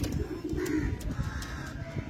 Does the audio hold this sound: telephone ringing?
no